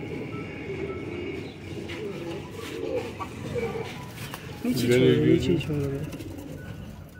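Breeder pigeons coo softly in a loft, with repeated low throaty calls that grow louder near the end, under someone speaking.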